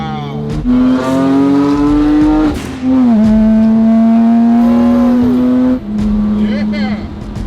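A restored supercar, rebuilt after a crash, accelerating hard: a loud, close engine note climbs steadily, drops sharply at each gear shift, then climbs again through several shifts.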